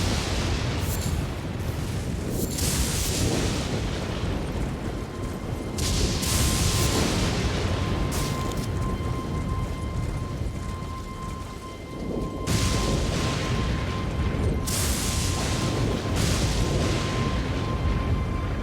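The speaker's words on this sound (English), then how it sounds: "Apparently this thunderstorm happens all the time." A thunderstorm in the video game Elden Ring roars continuously with heavy steady rain and deep rumbling thunder swells, loud and dense throughout with no voices.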